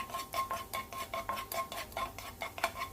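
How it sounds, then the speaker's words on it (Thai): A spatula scrapes and clinks against a pan in a quick, uneven rhythm while chopped garlic is stirred in a little oil, with only a faint sizzle and no talking. "ตั้งกระทะ ใส่น้ำมันลงไปเล็กน้อย ใส่กระเทียมสับลงไปประมาณ 1 ช้อนโต๊ะ แล้วก็เจียวกระเทียมให้พอใสค่ะ"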